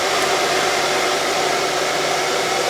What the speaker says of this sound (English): it's quicker just to use a hairdryer on it